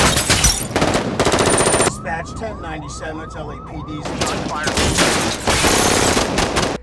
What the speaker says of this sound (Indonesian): terjadilah baku tembak di antara kedua kubu